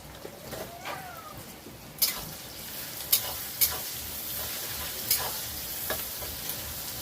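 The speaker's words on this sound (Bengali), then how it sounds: "ভালো করে লাল লাল করে ভেজে নেব পেঁয়াজ" Onions browning in a pan give a low, steady sizzle, with several sharp spatula clinks and scrapes from stirring at uneven intervals and a brief faint chirp early on; no one speaks.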